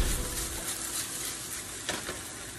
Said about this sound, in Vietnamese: nấu bún bò Huế lúc nào cũng phải rang sơ thịt qua như vậy